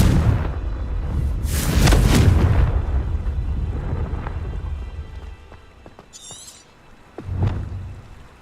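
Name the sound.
Confringo explosive spell blast, Hogwarts Legacy video game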